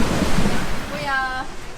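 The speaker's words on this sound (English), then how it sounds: "It is pouring with rain." Heavy rain pours down and wind blows at 25 to 30 knots on a sailing boat at sea off Norfolk Island, making a loud, continuous broadband roar with gusty wind buffeting the microphone.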